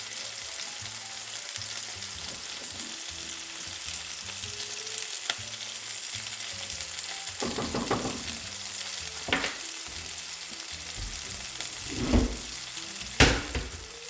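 Cauliflower rice with cilantro sizzles and fries steadily in a greasy pan, with scraping stirs and a few sharp utensil clanks growing louder toward the end; no one speaks.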